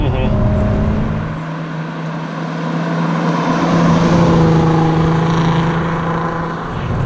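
A 2008 VW R32 engine drones and accelerates from inside the cabin, the pitch rising steadily over road and wind rumble.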